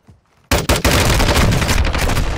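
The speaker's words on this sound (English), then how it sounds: "I'm putting a mortar strike on it now." Mortar strike explosions in a video game hit after a short quiet lead-in, loud and dense, with rapid booming blasts and gunfire-like crackle that rolls on without a break.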